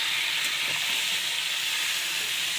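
Oil sizzles and crackles steadily in a wok as food fries, a dense, continuous hiss with no talking.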